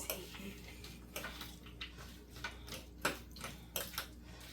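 A spoon quickly stirs a sticky chocolate and peanut mixture, with faint, quiet ticks and soft clicks repeating at a brisk, uneven pace close by.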